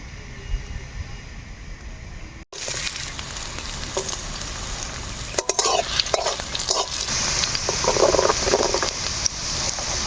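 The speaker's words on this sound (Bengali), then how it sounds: "এখন এই কড়াইতে আমরা সর্ষা তেল দিয়ে সবজিগুলো ভাজি নিব একে একে" Vegetables sizzle steadily in hot mustard oil in a kadai after a brief quieter opening, with occasional scrapes and clinks of stirring in the pan.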